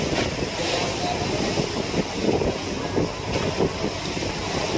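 Strong wind roars across the microphone on a fiberglass boat near Polillo Island, Quezon, with steady wash of ocean waves and hull noise underneath, continuous and loud throughout.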